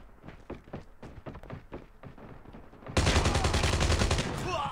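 Rapid bursts of gunfire in the mobile shooter Call of Duty Mobile, loud repeated shots that end in a dense sustained roar of firing near the end.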